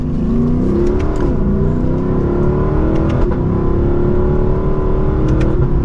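A 2024 Lexus LC500's naturally aspirated engine revs loudly and smoothly up and down several times, a throaty, continuous roar recorded up close.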